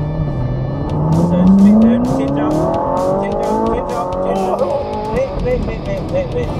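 Lamborghini accelerating hard, its engine note climbing steadily through the revs with a loud close roar, then falling back briefly at a gear change under occasional voices.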